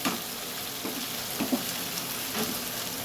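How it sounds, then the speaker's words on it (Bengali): Chicken pieces for chicken chap being sautéed in a pan, a soft continuous sizzle with a few faint stirring scrapes, close and fairly quiet, no talking. "সব চিকেনগুলো দিয়ে দেবো, এবারে দিয়ে একেবারে কষতে থাকবো"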